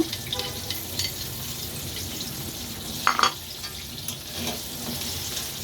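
Chicken vegetable fried rice crackles steadily in a pan as a fried egg is tossed in, with a brief louder clatter of stirring midway and soft scraping under the sizzle.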